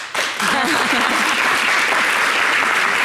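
Studio audience applauding on a French television cooking show, steady dense clapping from a crowd that fills the room right after a brief start, with some voices mixed in underneath.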